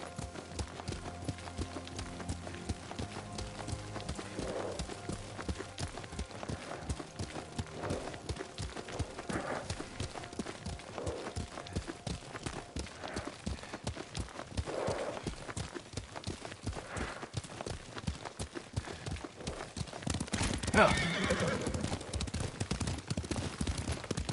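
Rapid, rhythmic hoofbeats of a galloping horse in Ghost of Tsushima run throughout, with a brief snort near the end and soft ambient noise underneath.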